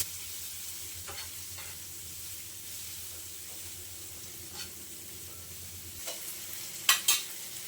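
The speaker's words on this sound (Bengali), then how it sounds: "এগুলো একটু আমি ভেজে নেবো একবার হালকা করে।" Capsicum and tomato pieces sprinkled with salt fry lightly in a pan, giving a soft, steady sizzle with occasional stirring scrapes and a couple of sharper clinks near the end.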